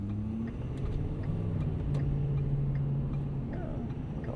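Steady low diesel drone from a 2016 Ford F-350 Lariat Super Duty with the 6.7 Powerstroke and 6-speed automatic, cruising on the road with constant rumble, faint ticking and mild surges as it shifts.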